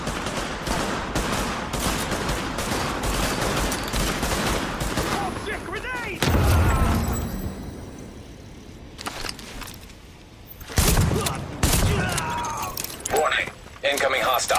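Gunfire in The Division video game crackles in dense, rapid bursts during a Chelsea supply drop side mission, mixed with game sounds and a spoken voice, fading in the middle before firing resumes.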